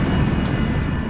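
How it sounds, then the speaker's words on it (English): A United States Air Force cargo jet on approach to land, heard as a loud, steady, broadband engine roar with no pauses and no voices. "a United States Air Force cargo plane is coming in for a landing"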